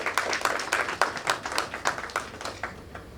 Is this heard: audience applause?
yes